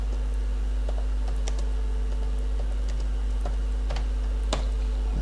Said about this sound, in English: Let me just type here shutdown.